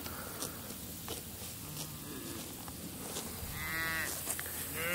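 Cattle low in a grassy fall pasture with calves nearby, a couple of drawn-out moos rising near the end over quiet outdoor ambience and soft shuffling footsteps.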